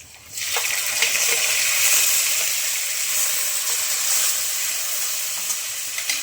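Whole spices and chilies for a tempering hiss and sizzle steadily in hot oil, the frying noise bursting in loudly at the start and then holding a dense, continuous crackle close by with no talking.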